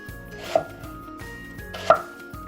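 Knife slicing onions thinly on a cutting board, with a few distinct chopping knocks over a faint hum of kitchen background noise and no talking.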